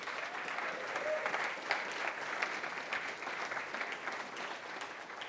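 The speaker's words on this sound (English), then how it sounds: "So big round of applause for those guys." An audience at an aquaculture demo day in Bergen claps in a steady round for the first graduates, a moderately distant, even patter of many hands that carries on without a break.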